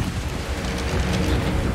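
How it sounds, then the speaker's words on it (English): Steady rain in the game Ark hisses and rumbles without pause, a dense, loud wash of falling water with a low roll underneath. "It's raining."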